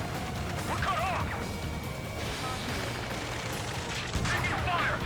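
Gunfire in a PlayStation military shooter battle: loud, dense crashing shots and impacts under constant battle noise, with shouted combat voices mixed in.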